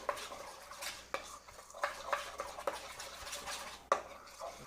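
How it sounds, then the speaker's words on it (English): Ginger and garlic being stirred into a Korean dish in a pan, with irregular scraping and clinks of a utensil against cookware and a faint sizzle underneath. "we're gonna mix the ginger and garlic in now"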